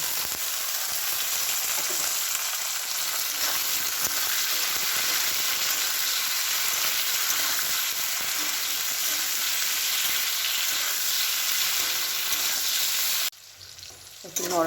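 Green chilies and mushrooms fry in oil over a full gas flame, giving a loud, steady, dense sizzle that runs unbroken for several seconds before cutting off abruptly near the end.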